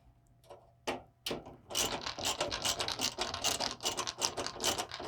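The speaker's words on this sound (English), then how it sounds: "I'm not screwing them super tight right now because heaven forbid I have to take them out and put them back in." Screws being driven into a power supply unit during a PC build, heard as dense, continuous scratchy mechanical clicking and ratcheting that starts with a few isolated clicks and then runs steadily, close and moderately loud.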